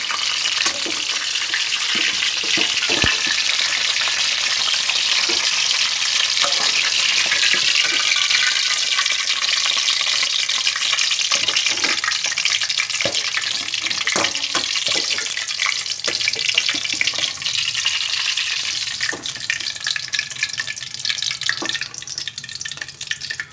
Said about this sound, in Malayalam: വഴുതനങ്ങയെല്ലാം വഴന്നു വന്നിട്ടുണ്ട്. ഇനി നമുക്കത് കോരി മാറ്റി വയ്ക്കാം.